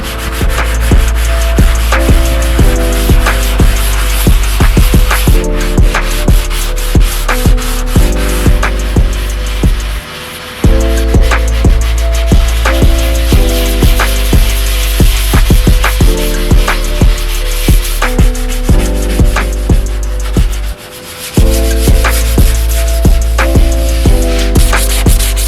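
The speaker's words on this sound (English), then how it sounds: "We're gonna sand this down by hand" 120-grit sandpaper rubs by hand over a custom molded duckbill trunk spoiler on a Hyundai Genesis Coupe, with loud, steady back-and-forth strokes repeating in an even rhythm and two brief pauses.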